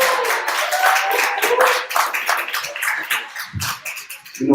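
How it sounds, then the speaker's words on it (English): A small live audience in Atlanta claps for a man, a loose round of applause that thins out into scattered individual claps before a voice comes in at the end. "Give the brother a round of applause"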